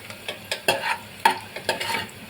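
Dal tadka tempering frying in a pan, with a steady soft sizzle broken by several sharp scraping stirs of a spoon against the pan, close and alone.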